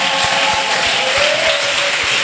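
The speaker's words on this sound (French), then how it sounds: "acclamons Jésus" A church congregation at a convention applauds Jesus with loud, sustained clapping from a crowd, its steady wash of claps filling the space with no break.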